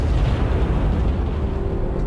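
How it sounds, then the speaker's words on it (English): A large explosion in the Halo 2 Anniversary video game, erupting from inside a warship, booms as a sustained, loud, rumbling roar with heavy low-end that holds steady across the whole stretch. "That explosion came from inside the Athens."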